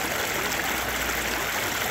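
The Guajoyo river near Metapán, El Salvador, flows with a steady, broadband rush of water, close and continuous, with no voices.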